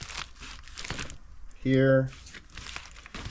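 A new transmission valve body sealed in a plastic bag gives a short, loud burst of crinkling rustle partway through, with someone talking before and after.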